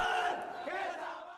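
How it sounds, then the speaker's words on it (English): Young Los Aceiteros football players chant their team cheer together in a circle, a dense, loud group of voices shouting in unison and sustained for over a second. "Los Aceiteros form a circle to perform their cheer"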